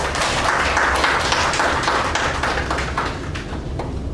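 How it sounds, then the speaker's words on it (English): An audience gives a big round of applause for a team after a speech evaluation at a speakers' club meeting, a dense, steady patter of many hands clapping at close range, unbroken for several seconds. "a big round of applause for the team"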